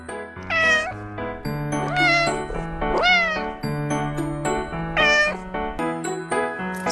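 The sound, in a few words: cat meowing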